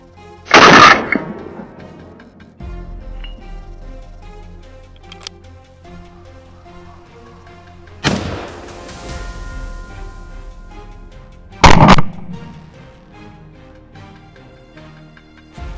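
Loud bursts of gunfire during a warthog hunt in Africa, a rapid volley at the start and more later, separated by quieter stretches of ambient rustle and faint rumble.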